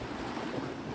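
Mediterranean sea waves wash against a rocky shore, a steady, full rush of surf and spray with a touch of wind, continuous and close throughout the short moment.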